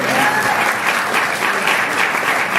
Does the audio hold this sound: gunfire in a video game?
no